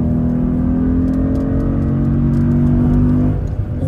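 A sports car drives with a loud, steady engine drone and rumbling exhaust close by, easing off slightly near the end, with no talking over it.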